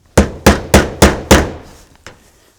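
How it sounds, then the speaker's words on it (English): Five sharp, evenly spaced metallic hammer taps start screws into a ClickLock metal roof panel at a gable cleat, each ringing briefly, followed by a pause and one softer final tap; no talking. "Sometimes I like to start my screws with a hammer."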